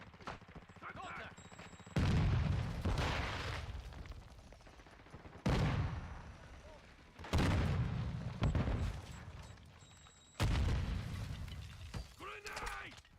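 Several loud blasts in a shooter video game, with a grenade going off among sharp bursts that each decay over a couple of seconds, separated by quieter stretches with game voice callouts.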